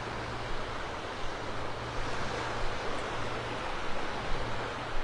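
Steady surf washing onto the sand at Delnor-Wiggins beach park in North Naples, Florida, before high tide: a continuous broadband wash with soft rolling swells, a low wind rumble underneath, and no voices.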